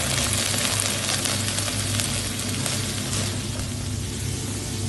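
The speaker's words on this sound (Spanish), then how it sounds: "Vamos a comenzar pochando el puerro" Leeks sauté in a hot pan in a restaurant kitchen, a dense, steady sizzle and crackle that fills the space from close by, with occasional stirring and no talking.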